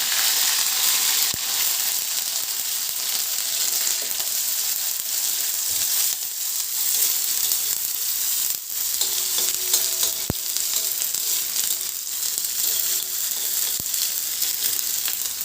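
Ginger-garlic paste and onion fry with cumin and mustard seeds in a hot pan, a steady loud sizzle throughout with occasional stirring scrapes and pops, no voices.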